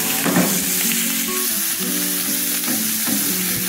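Diced onion with red and yellow peppers stir-frying in a wok, a loud, steady sizzle with scraping stirs from a spatula running throughout, no voices.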